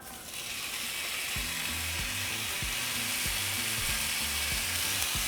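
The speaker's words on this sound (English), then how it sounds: "we're just going to cook our ham for 30 seconds on each side" Ham frying in a hot pan after bacon, a steady loud sizzle throughout with a faint repeating background tone, no talking.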